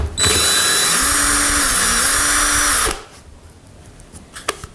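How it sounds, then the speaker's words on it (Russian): A cordless screwdriver drill whines loudly and steadily for about three seconds, its pitch dipping slightly under load, then stops, leaving quiet handling clatter, during repair work on an LPG car gas system. "для удобства воспользуюсь шуруповертом"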